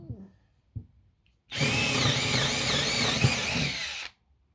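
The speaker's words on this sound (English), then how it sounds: "gonna put the biggest drill bit they gave us, and then we're gonna send it" A 12-volt cordless drill fitted with its biggest bit whirs loud and steady for about two and a half seconds, close up, after a couple of faint clicks.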